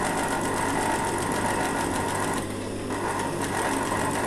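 An electric sewing machine whirs continuously at speed during a beginner sewing lesson, briefly easing off in the middle before picking back up, heard close with no talking.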